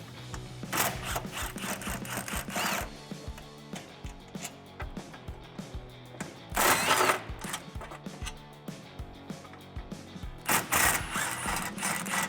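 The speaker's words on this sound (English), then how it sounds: "We're gonna remove these 3 bolts, switch over to our swivel ratcheting wrench." A swivel ratcheting wrench works an exhaust bolt loose on a 2015-2019 Challenger 3.6L, giving bursts of quick rasping ratchet clicks separated by short pauses and a few louder scraping spurts, close up.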